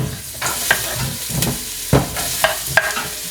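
Dill, onion and leeks for spanakopita fry in a hot pan, giving a constant close sizzle broken by several sharp stirring scrapes and clatters. No one speaks.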